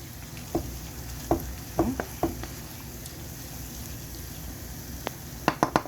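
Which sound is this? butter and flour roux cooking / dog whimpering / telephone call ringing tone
butter and flour roux cooking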